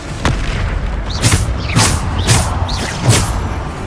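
Bombarda blast spells exploding in Hogwarts Legacy, four loud booming bursts with whooshing tails arriving at roughly half-second to one-second intervals over a constant rumbling game background.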